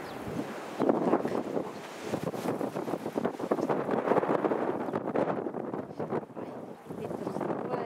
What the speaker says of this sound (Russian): Ветер сдувает.